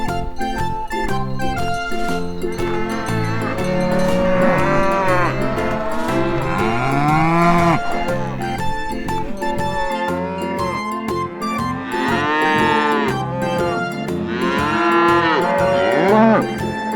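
Cattle moo repeatedly in a barnyard, long rising and falling calls layered over steady background music throughout, with several overlapping voices at close range.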